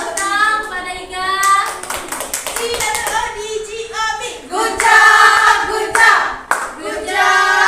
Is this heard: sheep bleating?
no